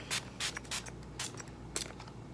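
Several short hissing bursts of a makeup setting spray mist, spaced about half a second apart, close by with a faint background hum.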